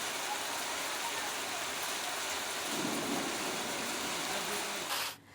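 Steady, heavy rain pours down in Malegaon, Nashik, in a dense, unbroken hiss that stays loud throughout, then cuts off abruptly near the end.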